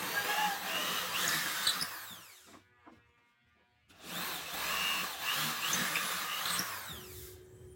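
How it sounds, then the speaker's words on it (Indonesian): Two bursts of a power drill boring into wood for a folding wooden chair, a whining motor rising in pitch, separated by a short pause of light handling noises. "Kemudian dibor sesuai tanda yang telah dibuat."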